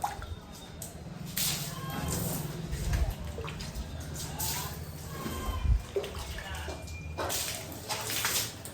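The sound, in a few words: water being splashed and sprinkled by hand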